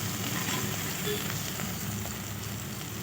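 Okra and onions sauté in a pan for a tamarind curry, with a steady, dense sizzle and crackle that holds evenly throughout and no voices.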